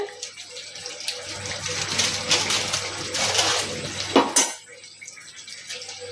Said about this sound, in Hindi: एकरा मिला दै छियै आ 2-3 मिनट बरकऽ दै छियै एकरा